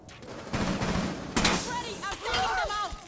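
Gunshots in Rainbow Six Siege, a couple of sharp close reports followed by a burst of action, with a voice talking over the sounds.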